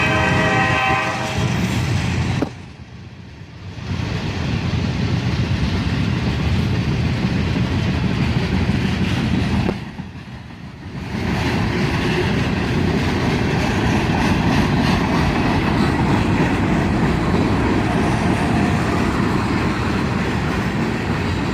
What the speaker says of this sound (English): A manifest train, led by an AC-44CW in the YN2 paint scheme and an ES-40DC.